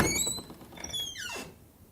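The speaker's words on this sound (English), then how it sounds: "A servant opened the large wooden door," A large wooden door opens at the front of a big stone house, giving a creaking squeak with a falling sweep, then a soft settling thunk, close and alone with no talk.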